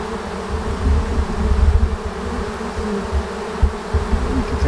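A swarm of honeybees buzzes close by, a dense continuous low drone with fluttering swells in loudness, no voices present.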